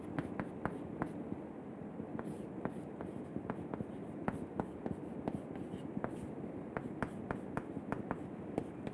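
Marker or chalk writing on a board during an engineering lecture, a steady run of short scratchy strokes and taps close by, with no talking.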